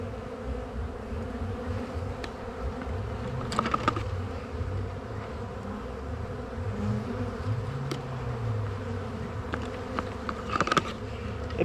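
Dense bees buzzing steadily around a swarm trap as they are knocked out and scooped, a continuous close drone with sharper insect whines and a few brief clatters rising over it.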